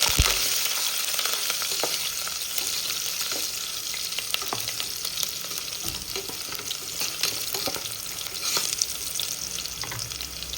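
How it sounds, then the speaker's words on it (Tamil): Steady, crackling sizzle of garlic frying in hot oil as a tempering for greens sambar, continuous and fairly loud with scattered sharp pops, no voices. "இப்போ தாளிக்குள்ளே பூண்டு போட்டு தாளிச்சா வாசனையாக நல்லாயிருக்கும்"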